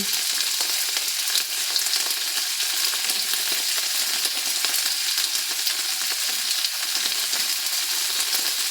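Tawilis fish fry in a pan with a dense, loud, continuous crackling sizzle and occasional stirring scrapes, close and steady, with no talking.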